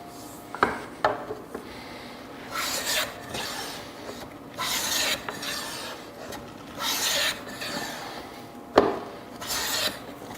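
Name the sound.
sanding wooden table parts up to 180 grit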